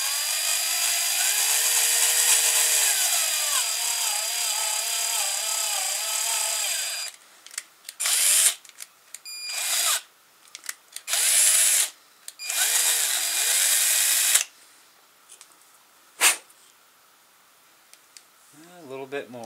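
A power drill bores into a part for a servo winch, whining loudly and continuously at first, then in short stop-start bursts with pauses in between.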